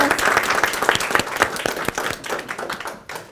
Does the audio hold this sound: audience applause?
yes